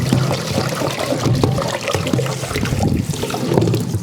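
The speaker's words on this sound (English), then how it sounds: "And you can see I'm scrubbing right across the top of that." A green Scotch-Brite pad scrubs across the top of a candle pitcher's filling guides in quick, rough, rhythmic strokes, close and fairly loud, with no talking.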